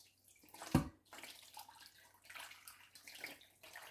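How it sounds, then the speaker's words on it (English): Hot water is poured over pork ribs in a pan: a loud splashing burst near the start, then a softer, uneven gurgling pour that keeps running, with no voices. "I start out with pouring some hot water over it."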